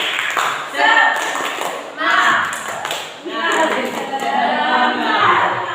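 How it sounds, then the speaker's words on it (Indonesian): A school class split into groups performs a rhythmic spirit clap in bursts of quick, patterned claps. The clapping comes in short rounds with voices calling along between and over the claps. "Tepuk semangat."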